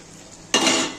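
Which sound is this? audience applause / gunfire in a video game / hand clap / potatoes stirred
potatoes stirred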